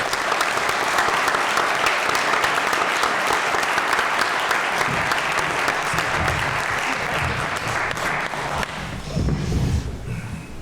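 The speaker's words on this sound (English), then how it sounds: "A round of applause." Sustained applause fills the hall at the 2022 Ludlow Town Annual Meeting, a thick, even roar of many hands clapping that holds steady for several seconds before thinning slightly near the end.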